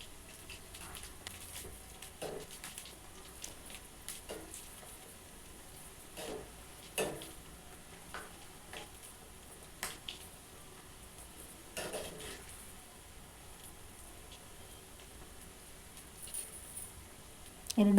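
Soya chunks fry crisply in hot oil, a faint, steady sizzle broken by scattered clinks and scrapes of a utensil against the pan.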